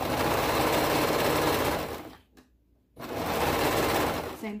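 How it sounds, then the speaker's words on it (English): Serger sewing machine stitching fabric for a toddler hoodie, a loud, close, rapid mechanical whir that runs steadily for about two seconds, stops briefly, then starts again. "paying attention to make sure that nothing's getting stuck underneath the serger"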